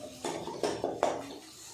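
A utensil stirs egg kurma masala in a metal pan, with four quick scraping strokes knocking against the pan, close and fairly quiet.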